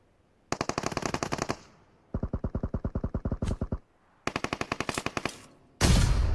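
Gunfire in PUBG Mobile during a tournament match: three long bursts of rapid automatic fire separated by short pauses, then a final heavy blast, loud and close with no talking.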